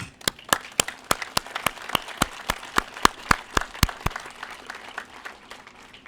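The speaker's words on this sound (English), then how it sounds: "take a moment and applaud everyone." Audience at a maintenance yard ribbon cutting breaks into steady clapping, a dense round of applause with sharp, regular claps standing out near the front, fading slightly toward the end.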